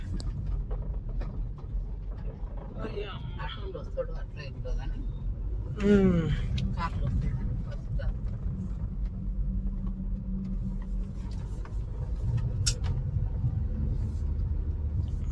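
A car engine drones low and steady as it labours up a steep ghat road in first gear, with voices talking over the constant rumble.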